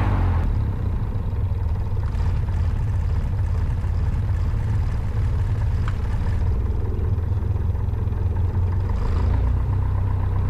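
A small aircraft engine idles steadily during a pre-flight idle check, a loud, even low drone that stays constant and close with no speech over it.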